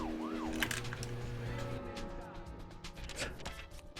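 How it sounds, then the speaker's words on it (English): A police siren wails from a car in a video game, a rising and falling electronic tone over engine noise and background sound, with a voice talking over part of it. "I guess this Emily's car actually does have the police siren equipped."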